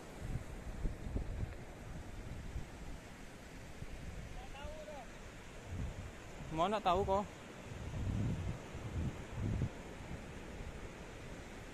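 Waves and wind at Lakitan beach make a soft, continuous rushing wash with gusty microphone buffeting, while people exchange a few words in the foreground.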